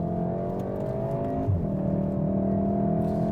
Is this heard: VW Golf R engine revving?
yes